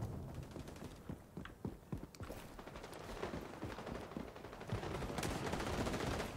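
Gunfire in the online shooter XDefiant, including a sniper rifle: a quick series of sharp, fairly faint shots, some spaced and some in rapid bursts, over a busy background of game noise.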